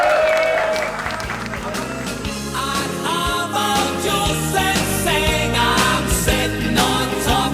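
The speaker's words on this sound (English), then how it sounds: "Can we have a huge round of applause for Margo MacDonald?" Audience applause for Margo MacDonald, broad crowd clapping heard beneath loud music with voices mixed in, sustained at a fairly even level throughout.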